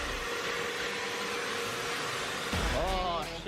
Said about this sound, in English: got the Dyson, the best vacuum ever. We're gonna vacuum all of this